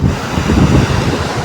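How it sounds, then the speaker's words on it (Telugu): Ocean waves rush in at a Chennai beach, a broad loud roar of surf with wind buffeting the microphone, continuous and close, with no voices. "అలలు అనేవి చాలా వేగంగా వస్తున్నాయి చూడొచ్చు"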